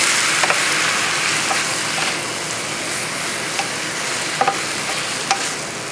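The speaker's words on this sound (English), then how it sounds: "I'll stir it for a second." Mushrooms frying in a hot pan are stirred steadily, a dense continuous sizzle broken by soft scraping sweeps of the utensil, close and fairly loud with no voices.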